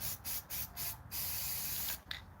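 Aerosol spray paint hisses out in short bursts, four quick sprays then a longer steady one, close and fairly loud, with no talk.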